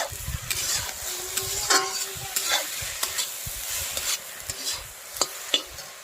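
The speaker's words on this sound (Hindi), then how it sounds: "अभी हम इसको अच्छे से मिला लेंगे।" Pork being stirred with turmeric in a black iron kadai, repeated scraping strokes of a utensil against the metal over a light sizzle, close and rhythmic.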